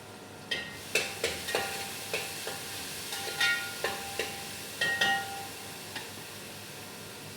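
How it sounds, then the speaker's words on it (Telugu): Onions fry in a pan and are stirred, a soft background sizzle broken by a dozen sharp scraping clinks of the spoon against the metal at an uneven pace, close by with no talk. "ఉల్లిపాయలు అయితే వేగినాయండి"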